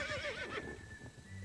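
A horse whinnies loudly and close, a wavering high neigh that falls away after about half a second, followed by low rumbling and faint shuffling.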